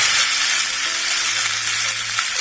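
Tomato masala fries loudly in a pan with a dense, steady sizzle close up, and faint low hums run beneath it.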